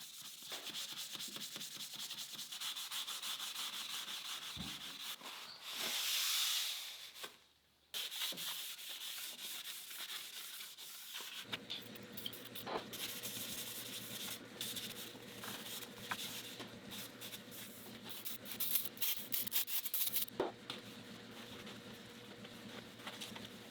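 Close, steady scrubbing and rubbing on the grimy metal of a precision lathe. The abrasive strokes run continuously, with a brief louder burst partway through and a short gap, and no voices.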